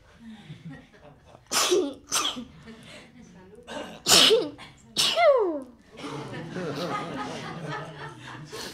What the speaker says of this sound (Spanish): Es que quiero estornudar.